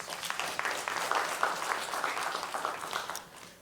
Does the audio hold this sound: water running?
no